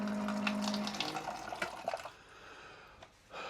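A water filtration dispenser in a custom Airstream trailer runs noisily, a close gurgling, splashing rush of water that stays steady at first, then thins into softer trickles and drips, with no talking.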